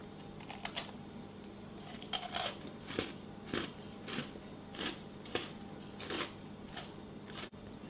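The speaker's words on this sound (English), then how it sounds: "Flavours of almond and lemon zest come through clearly, and that crunch" Someone bites into crunchy, still-warm almond and lemon zest biscotti, producing a series of sharp, close crackling crunches that repeat at a steady chewing rhythm.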